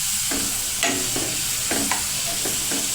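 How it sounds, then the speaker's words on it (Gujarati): Potato chips deep-frying in oil over a medium flame give a steady close sizzle, with a few scraping stirs cutting through as they are turned. "આપણે બટેટાની ચિપ્સ મીડિયમ ગેસ પર તળવાની છે, જેથી તે સારી રીતે તળાઈ જાય।"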